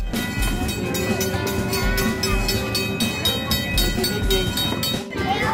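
A small miniature park train at Irvine Regional Park rolls along steadily with a continuous rumble and rhythmic clicking, close by, while people chatter faintly in the background.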